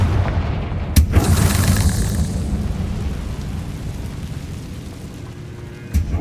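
A Confringo spell blast in Hogwarts Legacy, a sharp explosive boom followed by a rumbling fiery roar that slowly fades, with a second crack near the end.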